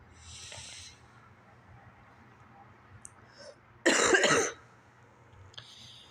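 A single loud, harsh whooping-cough burst stands out against a quiet background with faint hiss, preceded by a softer breathy sound.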